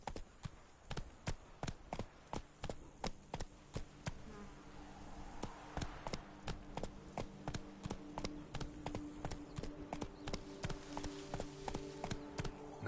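Roach, a horse in The Witcher III: Blood & Wine, gallops with steady rapid hoofbeats that run throughout, alongside tonal game music and a faint insect-like buzz.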